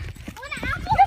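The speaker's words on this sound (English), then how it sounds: "There's a horse!" A loose horse in a residential neighbourhood clops its hooves in a quick, close series of steps while people talk excitedly over it.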